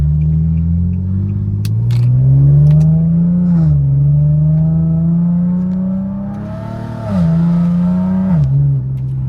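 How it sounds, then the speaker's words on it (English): A rear-wheel-drive Infiniti G37 with an exhaust leak revs hard in a loud, close, rumbling drone that climbs, drops briefly and rises again, with no one talking. "That exhaust leak making my car way louder than it needed to be."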